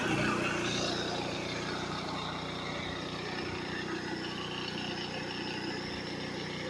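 A portable gas generator engine runs steadily and loudly at close range, a constant droning hum with no pauses throughout.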